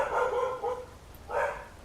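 A dog barks in the video game Skyrim: two bursts of barking, one at the start and another after a short pause, fairly loud and alone with no talk.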